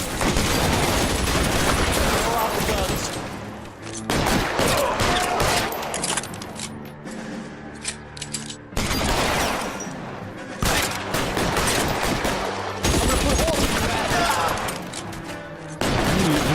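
A shootout in L.A. Noire, with loud, repeated gunshot volleys in bursts separated by brief quieter gaps, close and intense throughout.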